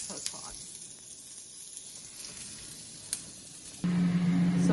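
Veggies and homemade cured sausage sizzle in a pan, a steady faint hiss that jumps louder near the end, with a low hum joining in.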